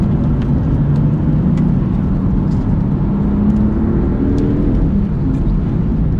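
A BMW M4 with a Stage 1 Bootmod3 flash, driven in M1 mode, gives a loud continuous in-cabin engine drone with low road rumble and slowly shifting pitch as it pulls along.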